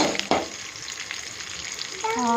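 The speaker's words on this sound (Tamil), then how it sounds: "நம்ம எடுத்து வச்சுருக்க வெங்காயத்தை போட்டு வணக்கிடலாங்க." Onion and ginger sauté in a pan for mint chutney, giving a steady soft sizzle with a couple of stirring knocks near the start. A voice begins speaking at the very end.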